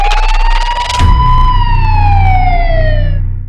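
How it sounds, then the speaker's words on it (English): Police siren wails loud and close, a single sweeping tone that rises and then slowly falls over about three seconds, with an engine rumble underneath and no talking. "That's the sound of the police."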